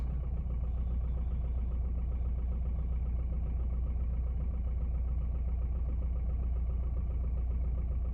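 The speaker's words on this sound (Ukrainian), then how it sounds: "трошечки ривками працює мотор. Не ідеально рівно він працює." A 1.7 diesel engine idles with a low, throbbing rumble, running slightly unevenly with faint periodic surges, steady and close with no talking.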